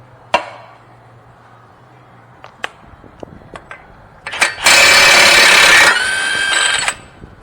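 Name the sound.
impact gun removing 32mm axle nut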